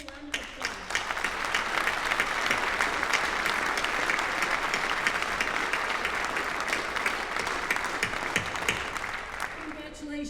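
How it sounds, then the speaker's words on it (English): The audience at a 2014 Neenah High School senior awards ceremony gives a loud round of applause, dense clapping that swells quickly and holds for about ten seconds before tapering off. "let's give everybody a round of applause."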